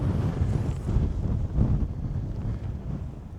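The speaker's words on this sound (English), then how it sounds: "it's so windy" Strong coastal wind during a storm in Ireland buffets the microphone in heavy, low rumbling gusts, continuous and loud with no voices.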